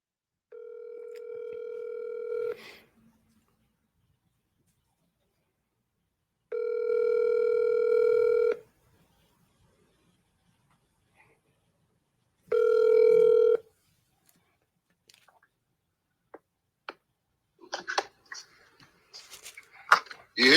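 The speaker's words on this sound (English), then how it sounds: "I'm gonna remove you from this and call you." Telephone call goes through: a steady ringback tone sounds in three separate long bursts with silent gaps, followed by faint clicks and rustling at the end.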